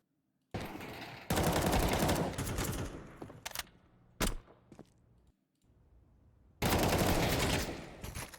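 Gunfire in the CS2 video game: loud bursts of rapid automatic fire crackle near and dense, separated by short pauses and a few isolated single shots, with no talking.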